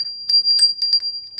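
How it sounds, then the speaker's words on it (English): A small bell mounted on a wrought iron cross rings in a few light, bright strikes with a lingering tone, close and clear with no talking over it. "So this is a wrought iron cross with a bell."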